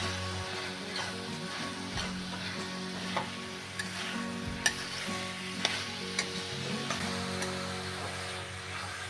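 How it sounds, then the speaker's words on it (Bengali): Green peas tossed into fried masala in a kadai sizzle steadily throughout, with scattered stirring clinks and scrapes close by; no one speaks. "মশলাটা কষা হয়ে গেছে, এবার আমি কড়াইশুঁটি দিয়ে দিচ্ছি"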